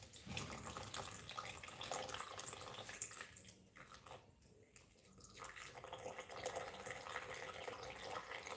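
Water runs steadily from a tap into a mixing bowl while making carrot bun dough. The flow is a continuous soft splash with no voices.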